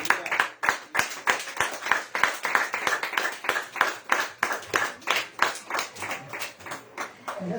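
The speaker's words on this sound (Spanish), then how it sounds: "Den aplausos al Gloria a Señor." A church congregation applauds in a quick, steady rhythmic clapping that fills the room, each clap crisp and close, continuing evenly throughout.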